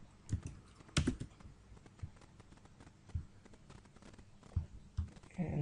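A database password is typed on a computer keyboard in soft, irregular keystrokes, faint and nearby, with no talking.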